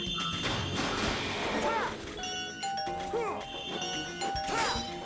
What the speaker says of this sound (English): The game still comes with his doorbell sounds